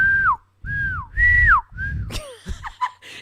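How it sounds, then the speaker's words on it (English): A person whistles a few clear, sliding tones in separate phrases, each falling in pitch at the end, followed by shorter, breathier chirps; close and fairly loud, with no speech. "Listen to the clarity in my whistle."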